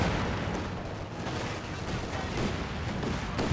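PTRS anti-tank rifle shots and other gunfire in a World War II strategy game battle, heavy booms and bursts over a dense, steady rumble of distant combat, fairly faint overall.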